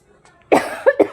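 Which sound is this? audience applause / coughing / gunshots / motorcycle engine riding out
coughing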